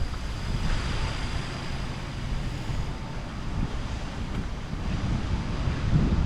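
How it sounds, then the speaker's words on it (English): Water fountain splashing in front of the Cadence Bank building on Troy Street in Tupelo, Mississippi, a steady broadband rush of falling water mixed with outdoor wind noise, continuous and fairly close with no voices. "A closer view of the Cadence Bank building with the waterfall in front, or the fountain in front"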